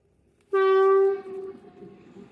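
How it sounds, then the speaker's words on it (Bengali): A train horn blasts close by from a rail line overhead, a loud steady harmonic tone lasting about half a second, then fading into a low rumble of the passing train. "উপরে ট্রেন"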